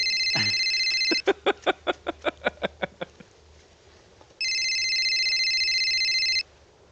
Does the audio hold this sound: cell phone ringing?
yes